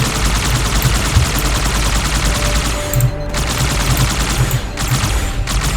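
Heavy gunfire and an explosion in the video game Halo 2, a dense, continuous loud barrage of shots with a couple of brief bursts standing out.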